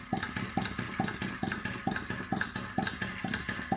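Gas-heated two-cylinder flame eater engine, slightly modified, chugging steadily with regular rhythmic puffs about five per second over a faint hiss, close and moderately loud, no voices.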